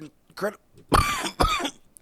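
A person coughs twice in quick succession, close and fairly loud, after a softer throat sound at the start.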